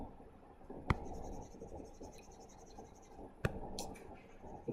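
Steady scrubbing of an eraser across a lecture board, a close continuous rubbing texture broken by a few sharp knocks and squeaks, with no speech over it.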